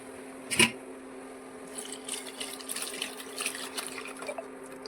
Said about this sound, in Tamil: மசாலாலாம் தக்காளி, பச்சை மிளகா, புளி எல்லாம் கரைச்சி வச்சதை ஊற்றிக்கலாம்.